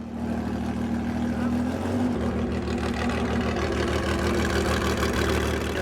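A 1972 Volkswagen Super Beetle fitted with a 3.6 liter Porsche 911 engine idles at a winter festival in Alaska, a steady close mid-pitched engine drone with a slight shift in tone partway through.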